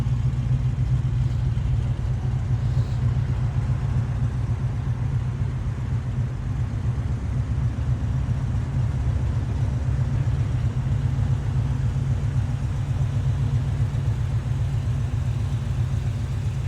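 Rumbling exhaust of a Camaro restomod with a 383 stroker V8, a steady deep, throaty burble held at a constant level throughout with no voices over it.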